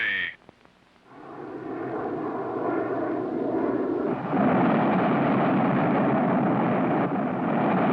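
A 1950s film sound effect of a jet squadron scrambling: a brief crackly radio tone, then a swelling, loud, sustained roar of jet engines that builds and holds.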